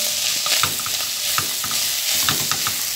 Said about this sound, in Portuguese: Então eu vou misturar bem.